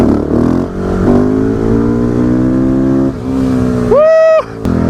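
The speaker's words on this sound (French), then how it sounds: "Je vais quand même refaire un petit wheeling là." A motorcycle engine revs hard while the rider pulls a wheelie on a small country road, a loud close droning note that climbs steadily, dips, then surges sharply to a high screaming rev before cutting back.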